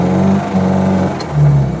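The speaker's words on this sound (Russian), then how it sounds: "предлагаю попробовать все-таки разогнаться на льду" A car's engine revving hard as it tries to accelerate on ice with the wheels spinning, a close droning hum that dips briefly and surges again near the end.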